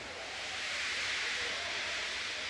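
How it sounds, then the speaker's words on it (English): Steam engine in the Trainz railway game letting off steam, a steady broad hiss that holds evenly for a couple of seconds with no other sounds. "He just let off steam feebly."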